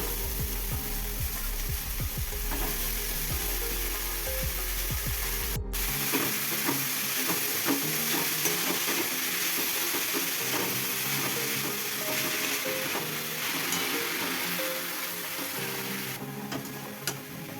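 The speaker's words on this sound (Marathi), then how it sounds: "यात आता चिरलेली मेथी टाकून घेऊया।" Chopped fenugreek leaves sizzle and crackle as they are stirred through a pan of garlic and green chillies, a steady close frying hiss with scraping stir strokes and no voices.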